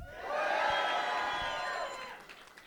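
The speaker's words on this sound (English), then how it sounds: "Wow, what an enthusiastic crowd. Are you guys fired up?" An enthusiastic crowd at a political rally for gubernatorial candidate Kelly Schulz cheers and whoops in a loud, sustained roar of many voices, swelling quickly and then fading toward the end.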